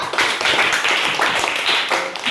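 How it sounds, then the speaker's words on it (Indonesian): A classroom of students claps for a classmate, a short burst of scattered, uneven hand claps close by with no talking. "Kita berikan tepuk tangan untuk Ayu ya."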